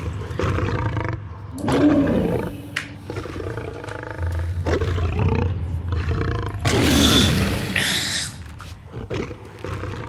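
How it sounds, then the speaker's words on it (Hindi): A lion roars repeatedly in a movie fight scene, deep and loud with growling bursts and pauses between, heard up close amid film sound. "शेर की आवाज इतनी डेंजरस होती है, बंदे का दिल बैठ जाता है सुन के"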